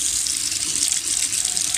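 A water tap turned on full blast gushes in a loud, steady, hissing stream throughout.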